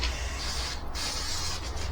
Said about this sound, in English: They recommend spraying some maintenance spray